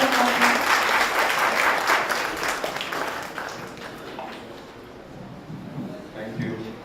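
An audience at a conference talk on AI and the future of work breaks into a round of applause, dense clapping that is loud at first and gradually thins and fades over several seconds.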